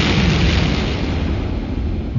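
A bomb blast in a World War II cellar, heard as a loud, sustained roaring rumble that fills the whole moment without easing, with no voices.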